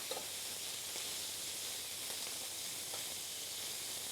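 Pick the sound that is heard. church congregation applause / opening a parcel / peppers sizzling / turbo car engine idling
peppers sizzling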